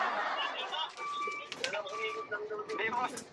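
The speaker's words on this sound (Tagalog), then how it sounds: "Kulot, ibon mo, layang-layang." Layang-layang bird calling in a Filipino street setting, a string of short chirping and cooing notes with whistled tones, close and fairly clear, mixed with people talking throughout.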